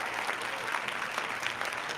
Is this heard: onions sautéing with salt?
no